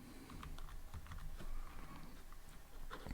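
Steady, rapid keystrokes on a computer keyboard while code is typed, a close, continuous patter of small clicks with no talking.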